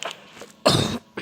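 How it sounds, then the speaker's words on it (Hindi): A person coughs nearby in a short series of harsh, throaty bursts, with one stronger cough in the middle and quiet gaps between. "थोड़ी सी खांसी हुई है"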